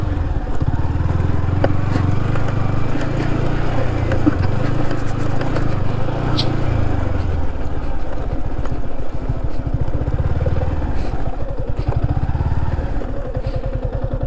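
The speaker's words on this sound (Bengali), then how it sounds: "আর এই হলো আমার বাইক।" A motorcycle engine runs steadily and close by throughout, with a low, continuous rumble beside mustard fields on a countryside ride.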